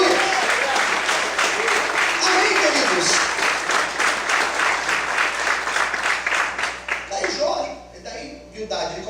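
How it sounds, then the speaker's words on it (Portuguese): A congregation at an evening church service applauds loudly and steadily for about seven seconds, the clapping thinning out near the end as a preacher speaks over it. "Você pode aplaudir e glorificar ao Senhor bem forte"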